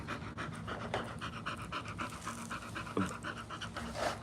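A dog pants rapidly and steadily, close to the microphone, with a continuous rhythmic huffing breath over a noisy background for several seconds.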